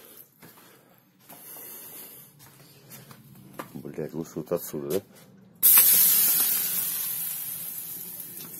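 Mug of water poured onto a hot frying pan, bursting into a loud sustained hiss of steam that fades gradually, preceded by someone talking and some clattering.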